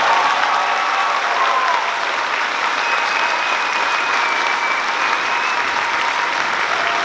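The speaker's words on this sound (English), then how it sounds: "It's so good to hear the applause live." An audience applauds at a middle school winter band concert, a full and continuous wash of clapping that holds at a steady level throughout, with faint tonal hums running underneath.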